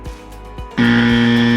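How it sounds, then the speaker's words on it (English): A quiz contestant's buzzer sounds at a state quiz final, a loud, sustained electronic buzz that cuts in abruptly after a couple of soft ticking beats and holds steady to the end. "the first team to press their buzzer"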